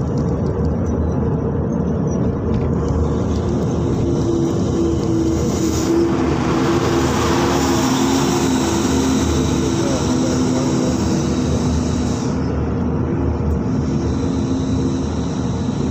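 Trucks and other traffic grinding along a hill road in the Kallar Kahar hills, a loud continuous rumble with passing engine drones, heard from nearby and without pause.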